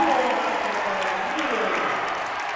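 High school basketball crowd cheering and applauding in a Star Valley gym after a made three-pointer, a dense continuous roar of clapping and shouts that slowly eases, with an announcer talking over it.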